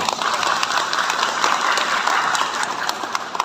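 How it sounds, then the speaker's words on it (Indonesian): A crowd at an Indonesian political gathering for a recess and decree handover ceremony in Tangerang claps steadily, a dense, continuous wash of applause that fills the room for several seconds. "Kita aplaus untuk kita semua."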